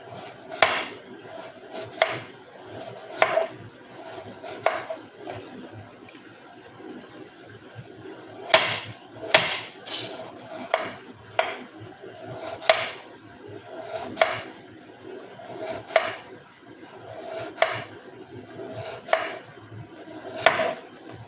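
Repeated sharp knife strokes hitting a cutting board at an uneven, steady pace, close by, with a faint background hum.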